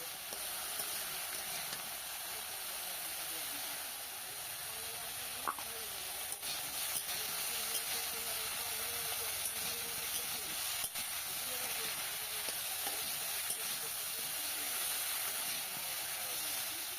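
Potatoes and cauliflower fry in hot oil in a pan, giving a steady, soft, continuous sizzle and hiss with no talking.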